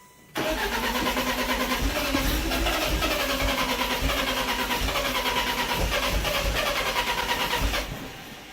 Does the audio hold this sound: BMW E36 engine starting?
yes